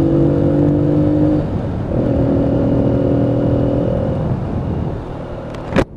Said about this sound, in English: I'm going to drop it down the cogs and put a little bit of revs on this bike. And you can just hear that exhaust note